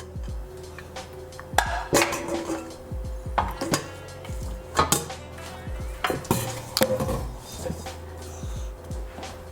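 Onion rings tossed into a frying pan for chicken liver bistek, with sharp clanks and knocks of pan and utensils at irregular intervals over a low kitchen hum, close and moderately loud, with some voices in the background.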